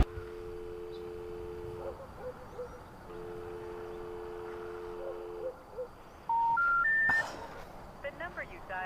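A run of electronic telephone dialing tones: a long steady two-note tone repeats twice, then a short rising sequence of beeps plays, fairly close, over quiet background noise and without any speech.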